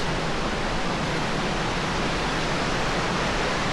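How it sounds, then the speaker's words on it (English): Continuous roar of Russell Falls, a Tasmanian waterfall, rushing water filling the scene at an even, strong level from start to finish, with no talking. "So that's Russell Falls, that you can see and hear there to my left."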